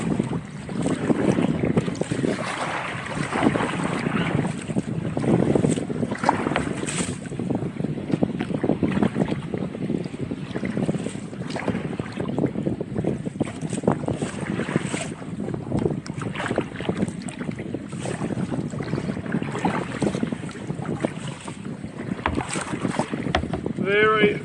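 Wind blows hard across open water on Lake Wellington while boating, a continuous rough rumble buffeting the microphone with splashing water noise beneath, steady for the whole stretch.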